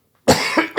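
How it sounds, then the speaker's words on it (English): A person coughs harshly in two or three close bursts during an indoor interview, loud and near with nothing else heard. "Cut out the coughing."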